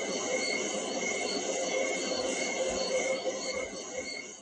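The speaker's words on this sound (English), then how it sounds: "Can you guys hear my crickets?" Crickets chirp continuously in a dense, shrill chorus, steady and fairly close, with no voices.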